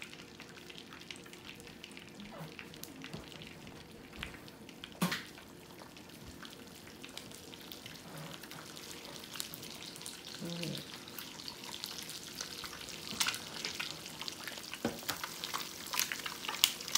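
Eggs fry in a pan on a quiet, steady sizzle, with occasional faint clicks and a few louder knocks of a utensil or pan scattered through, heard close but at low level.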